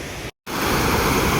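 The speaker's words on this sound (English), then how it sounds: "I'm not using any external microphone for recording this video, and it's a bit windy around here" Wind buffets the built-in microphone of a Vivo iQOO 12 Pro phone outdoors, a loud rumbling roar that cuts out briefly for a moment of silence before returning just as strong.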